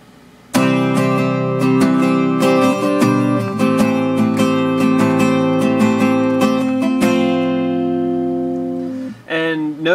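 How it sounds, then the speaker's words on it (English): Guitar strums the Kaleidoscope pattern by Joe Brooks at full speed, a quick, busy rhythm of down and up strokes ringing up close, then fading into a brief scrape at the end. "I'll start by showing you the strumming pattern real quickly"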